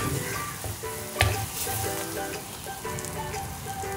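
Chili and turmeric masala sizzles in a pan while being cooked down, a dense, continuous frying hiss with a few louder crackles and stirring scrapes, close and without speech.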